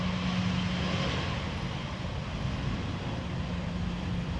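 Air Arabia Airbus rolling on the runway at Amsterdam Schiphol Airport, a faint, distant, continuous engine rumble with a low steady hum and no talking.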